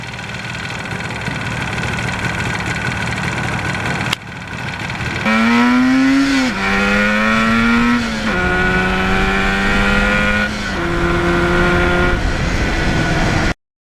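A 1977 Yamaha RD400 motorcycle engine runs through the gears, steady engine drone, then repeated rising revs with sharp drops at each shift, loud and close, cutting off abruptly at the end.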